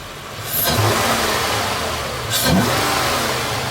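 A car engine fitted with an AEM V2 cold air intake revs up twice in quick bursts, the first around half a second in and the second near two and a half seconds, with a steady engine drone between and no talk.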